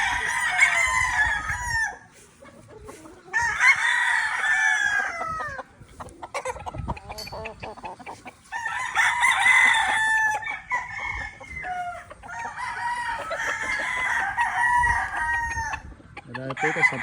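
Several gamefowl roosters, SBR cross with Mel Sims Black, crow repeatedly at close range, loud overlapping cock-a-doodle-doo calls in long bursts separated by brief pauses, with a few clucks between.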